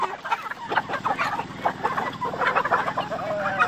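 Aseel chickens and roosters at a chicken farm cluck and squawk loudly and continuously as they scramble for scattered grain, a dense, busy flock chorus close to the listener with no talking.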